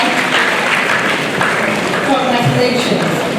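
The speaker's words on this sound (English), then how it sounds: "please let's applaud them once again" Steady, dense audience applause at a graduation ceremony, loud and sustained throughout without pause, with a faint murmur of the crowd underneath.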